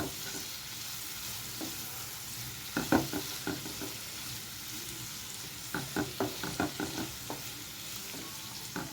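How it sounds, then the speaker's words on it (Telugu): A handful of mint leaves fries in hot oil: a constant low sizzle, broken by two bursts of quick scraping stirs, with no talking. "ఇంత పుదీనా వేసుకోవాలి ఒక గుప్పెడు ఇది కాస్త ఫ్రై కానివ్వాలండి మంచిగా ఆయిల్లో"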